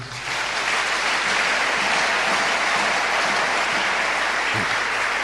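A church congregation claps in a broad, sustained roar of applause that swells in quickly and holds loud and dense, with no words audible through it.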